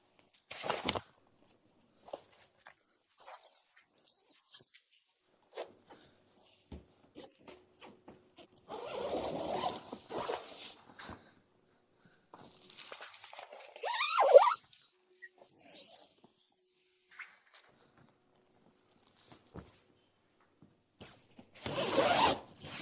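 Zippers on the side walls of a rigid rooftop tent are pulled open in several long rasping runs between quiet pauses, with small clicks and fabric rustles scattered through.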